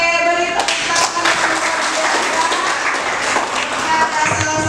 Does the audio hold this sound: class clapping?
yes